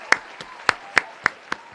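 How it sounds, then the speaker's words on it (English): A handful of separate hand claps from an audience, sparse and evenly spaced rather than a full ovation, fairly close and crisp, with no talking over them. "let's give him a round of applause"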